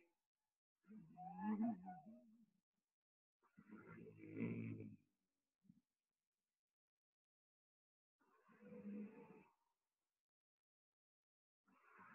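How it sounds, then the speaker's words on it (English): Slow Ujjayi yoga breaths drawn through a constricted throat give a hoarse, snore-like rasp, four long breaths separated by silent pauses. "In Ujjayi breath, you breathe in from your throat"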